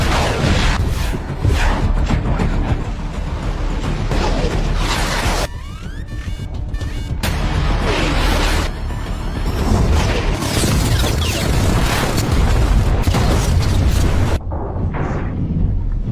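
Loud, continuous barrage of heavy warship gunfire and booming explosions, dense and chaotic with rumbling blasts and whooshes throughout.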